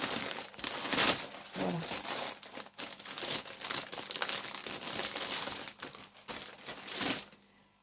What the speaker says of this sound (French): c'est le colis qui fait ce bruit-là.